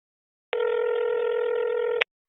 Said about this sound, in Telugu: మీ మేనేజర్కి ఫోన్ చేయి.